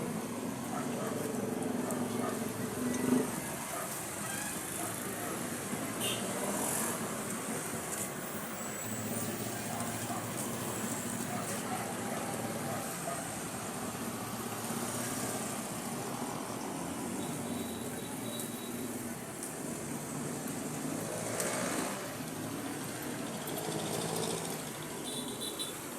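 Busy street traffic near Pritil Market, including jeeps, forming a steady, dense outdoor rumble with engines and passing vehicles at middle distance, and a few brief higher tones over it.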